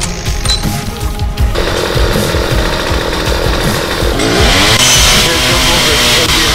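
A chainsaw in the Starforge video game runs loud and close with a harsh, buzzing engine drone that holds steady and then revs higher toward the end, alone with no talk.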